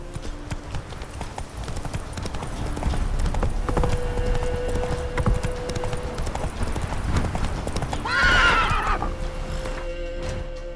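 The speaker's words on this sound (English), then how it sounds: "Whoa there, Roach" The horse Roach gallops in The Witcher 3: Wild Hunt with a steady clip-clop of hooves, and a loud whinny rises near the end over the continuous in-game ambience.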